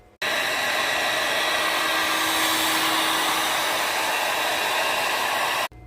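A heat gun blasts steadily on a Rotax 587 engine's flywheel nut, a loud, even blowing hiss that starts abruptly, holds unchanged for about five seconds and then cuts off.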